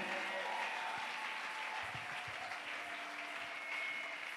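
A church congregation applauds and cheers in a steady, dense wash of clapping that holds at an even level throughout, with a few voices mixed in.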